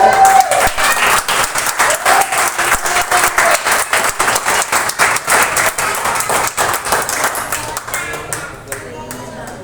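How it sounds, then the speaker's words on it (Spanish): Congregation applause during a Wednesday church service, loud and rhythmic with many hands clapping in near-unison beats, tapering off toward the end while a voice speaks over it. "Denle un aplauso a él."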